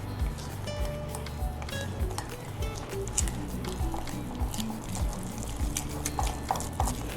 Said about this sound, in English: And stir this in.